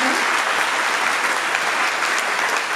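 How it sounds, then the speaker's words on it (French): Dense, steady audience applause filling the whole stretch, many hands clapping at once without pause. "je pense qu'on peut vous applaudir"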